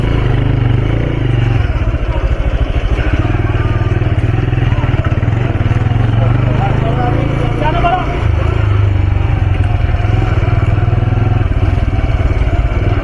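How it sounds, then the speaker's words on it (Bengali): Motorcycle ridden along a road, its engine a loud steady low rumble with wind and clatter throughout while people talk over it. "এর ওপর দিয়ে বাইক চালিয়ে যাবো"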